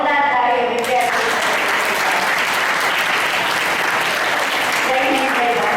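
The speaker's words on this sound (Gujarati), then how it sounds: "તમામ શિક્ષકો માટે એક જોરદાર તાળીઓ વિદ્યાર્થીઓ" At a school summer camp, a crowd of students claps loudly and steadily for their teachers. The dense applause fills the whole stretch, and a voice is briefly heard at the start.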